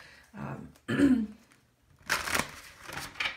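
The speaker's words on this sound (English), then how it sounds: "So I'm going to shuffle this again" Tarot cards are shuffled by hand in short bursts of riffling and sliding, close and fairly loud, with brief pauses between the runs and no speech.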